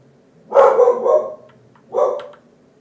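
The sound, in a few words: dog barking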